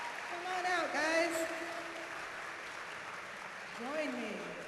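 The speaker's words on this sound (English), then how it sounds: "Can we get some applause going for the Ians?" Audience applause at a fan convention panel in London as two actors are introduced, a steady broadband clapping wash running throughout with a voice speaking over it at the start and near the end.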